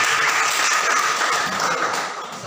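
Classroom applause during a lesson observation, a short burst of steady clapping from a group of students that fades slightly toward the end.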